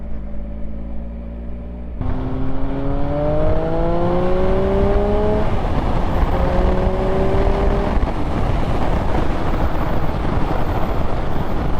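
2019 Triumph Speed Triple RS naked motorcycle engine pulling at low revs around 2000 RPM, a close, loud drone rising gradually in pitch under heavy wind rush, with no talk.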